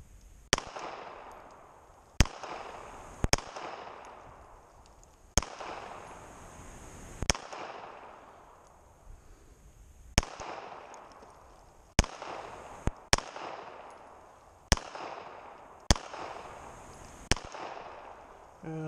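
An FMK 9C1 gen 2 9mm pistol with a Crimson Trace CTS1550 sight fires outdoors. About a dozen sharp, loud reports come at irregular intervals, and each one rings out into a short echoing decay.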